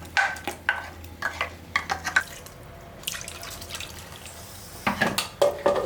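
Ground coconut and onion paste is poured and stirred into a simmering fish curry in a pot, with wet splashes, scraping stirs and clinks in uneven bursts at close range.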